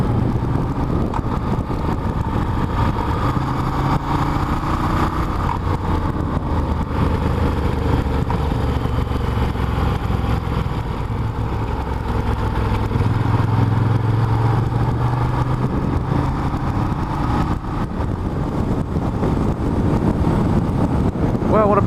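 A motorcycle riding along Mulholland in California makes a continuous engine drone mixed with heavy wind rush, steady and close for the whole stretch.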